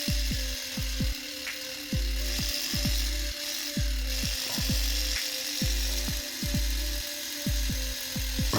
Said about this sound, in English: you can see the angle the plastic is getting sanded at